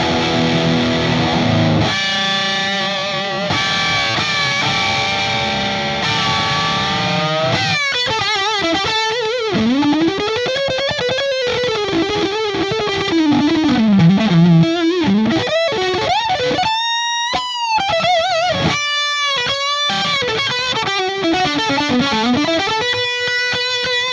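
Electric guitar played through an Ibanez TS808 Tube Screamer overdrive pedal, tone set bright, rings out alone with sustained overdriven chords, then melodic single-note lines and bends, loud and close.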